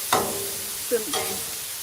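Chorizo frying on a Blackstone griddle, a steady close sizzle filling the whole stretch with a couple of brief scraping stirs over it.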